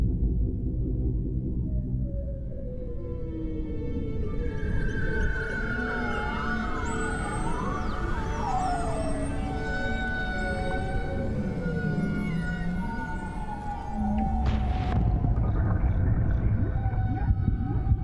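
Whale calls from the documentary film The Sonic Sea: long sweeping moans, whoops and rising tonal cries layered over a deep rumbling underwater background, with a loud broadband burst near the end.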